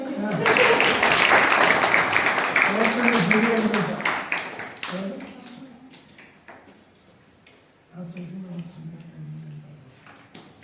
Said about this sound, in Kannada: ಇನ್ನೊಂದ್ಸಲ ಚಪ್ಪಾಳೆ